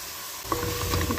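Soy sauce and chili sauce being stirred in a pan for a leftover-keema pasta, a short scrape and sizzle that starts after a brief quiet moment, close and without talk.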